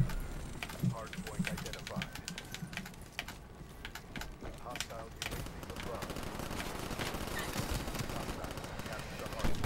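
Gun battle in Black Ops 3, with rapid bursts of gunfire crackling throughout amid game noise, fairly busy and mid-distance, with talk over parts of it.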